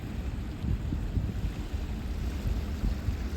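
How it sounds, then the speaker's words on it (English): Wind blowing across San Antonio Bay off Lamar Beach Road at about 11 miles an hour, a steady low buffeting roar with gusty microphone rumble and no talking. "Wind's about 11 miles an hour."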